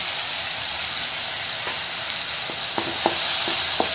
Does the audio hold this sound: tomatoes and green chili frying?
yes